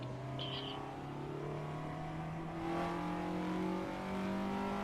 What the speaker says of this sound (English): You can hear that VTEC kick in.